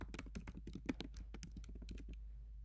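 Rapid, irregular key presses on a computer keyboard, faint and close, a quick burst of clicks that tapers off into quiet room noise.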